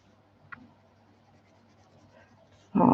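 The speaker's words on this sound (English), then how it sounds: "If you've ever used Inktense in the Amazon Create Space paper, and that really does sound crunchy." Inktense pencil scratching across Amazon CreateSpace paper during adult colouring, faint crunchy strokes with one brief sharper scrape, ending in a sudden loud burst of noise.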